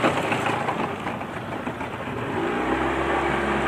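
A 40 HP outboard motor on a Jon boat runs at full throttle on a lake, a loud, steady engine drone that drops into a lower, even hum near the end.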